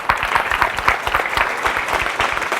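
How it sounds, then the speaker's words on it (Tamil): Clapping breaks out for a contestant at a Tamil speech competition, a lively burst of many hands with distinct sharp claps standing out from the crowd, fairly close and loud, with no talking. "எங்க வைணவனுக்கு ஒரு நல்ல ஒரு கைத்தட்டல் கொடுத்துடலாம்"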